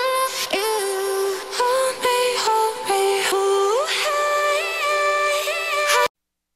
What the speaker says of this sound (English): So I'm gonna start today with this vocal trap melody.